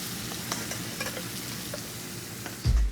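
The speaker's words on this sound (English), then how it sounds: "We're just going to sear them, get a nice bit of color, caramelize the outside of them." Braised fingerling potatoes searing in a hot pan, giving a steady close sizzle and frying hiss with light stirring, ending in a brief low thump.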